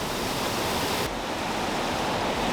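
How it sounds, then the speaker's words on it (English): Waterfall by a river gives a dense, steady roar of rushing water, loud and close, an unbroken wash of noise throughout with no talking. "Even under that waterfall"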